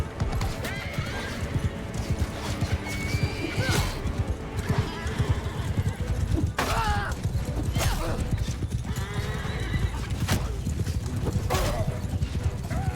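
Horses gallop and neigh during a battle in the video game Mount and Blade Bannerlord. Steady hoofbeats clatter throughout, with several loud whinnies breaking through, a busy, constant mix of cavalry noise.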